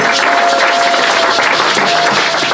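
A church congregation applauding together, dense continuous clapping filling the space at a steady, loud level, with a faint sustained tone beneath and no break throughout.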